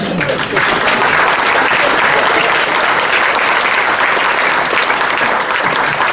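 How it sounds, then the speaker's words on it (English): An audience at a State of the City event gives a sustained, dense round of applause for former mayors, loud and continuous throughout with no talk over it. "Will you stand up and let us give you a round of applause?"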